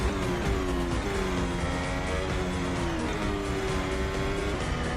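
F1 race car engine screaming flat out along a Le Mans straight in a video game, a high rising whine through gear shifts, continuous and prominent.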